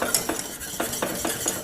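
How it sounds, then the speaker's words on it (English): A whisk clatters rhythmically against a pan, stirring sour cream into a thick sauce in about five quick even strokes, close and moderately loud with no talking. "Whisk that in."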